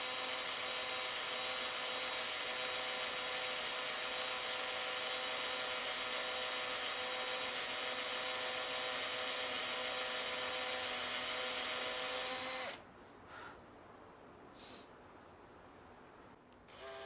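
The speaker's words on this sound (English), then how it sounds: "drill the holes on the back of the neck so that it can be bolted to the body" A power drill whines steadily for about twelve seconds, boring bolt holes in the back of a guitar neck, a loud, even motorised drone, then cuts off, leaving faint handling noises.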